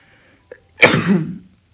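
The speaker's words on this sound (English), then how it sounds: "just really needed to sneeze" A single loud, sharp sneeze burst up close, lasting about half a second in an otherwise quiet moment.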